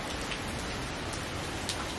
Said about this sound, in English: You can see the wind and the rain.